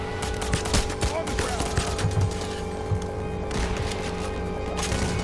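Enemy gunfire in the video game Payday The Heist, a continuous fusillade of rapid automatic shots and scattered bursts layered with game noise, with talk mixed in.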